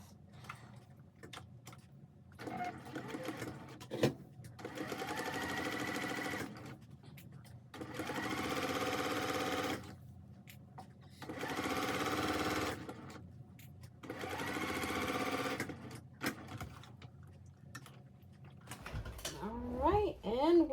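A sewing machine stitches delicate dress fabric in several steady whirring runs of a few seconds each, separated by pauses, with a person talking near the end.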